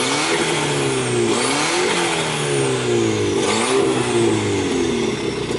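Car engine revving hard in a street setting, a Honda Civic SiR or Toyota Starlet GT Turbo, with repeated rising and falling revs that sweep up and down in pitch, loud and close throughout, with no talk over it.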